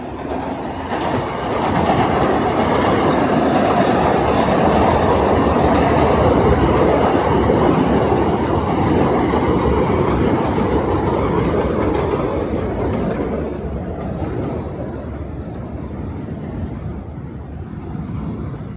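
A train rumbles steadily past at close range on Avenue Y in Brooklyn, New York, loud and continuous with rhythmic clatter over the rails, gradually easing toward the end.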